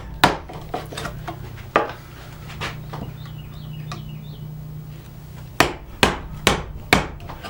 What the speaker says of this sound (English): And as I come near the ends of the mortise, the chisel is more vertical